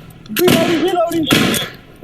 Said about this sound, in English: Shots fired! Police action shooting! He's got a rifle!